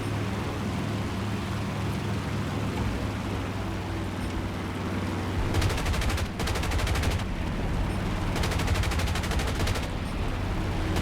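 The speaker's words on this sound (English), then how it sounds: "Excuse me as I now fire through buildings in order to take out these AA emplacements." Aircraft guns fire at ground targets in War Thunder, two long rapid-fire bursts of machine-gun fire over a constant engine drone.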